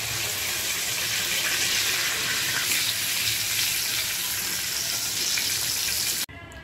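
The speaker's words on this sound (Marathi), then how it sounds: "बांगडा क्रिस्पी कोटिंग बरोबर आपला छान फ्राय झालेला आहे" Rava-coated mackerel (bangda) pieces frying in a pan give a steady, dense sizzle close by that cuts off abruptly near the end, no talk.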